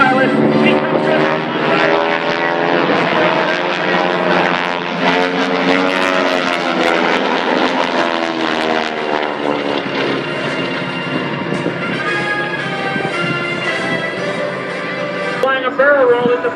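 Propeller aerobatic planes flying in formation at the Wings over Northern Michigan Air Show, a sustained droning engine roar that swells and shifts pitch as they pass, with an announcer talking over it throughout.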